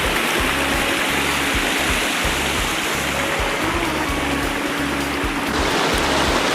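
Waterfall at Lake Synevyr, a loud, dense, continuous roar of falling water filling the whole clip, with a low rhythmic thumping underneath.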